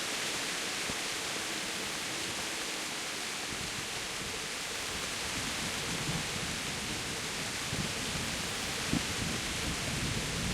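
Steady heavy rain hisses without a break in the medieval game Kingdom Come, while low rumbling thunder swells and grows louder toward the end.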